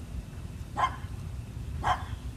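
Dogs bark off to one side indoors: two single, fairly faint barks about a second apart over a constant low hum.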